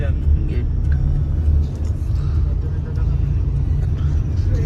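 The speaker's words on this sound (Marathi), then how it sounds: "गाडी चालवतो" Steady low engine rumble of a car driving along, constant and close, with faint voices murmuring beneath it.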